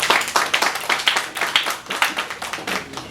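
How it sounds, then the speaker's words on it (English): An audience claps steadily for a speaker at a Ghana repatriation tour event, a dense patter of many hands, fairly close and continuous, with no one speaking over it. "let's give Brother Bomani a round of applause"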